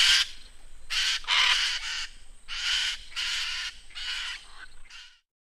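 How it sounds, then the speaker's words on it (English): A macaw gives a series of about seven loud, harsh, raspy squawks at close range, in uneven bursts with short gaps, with no other sound around them. "Macaw."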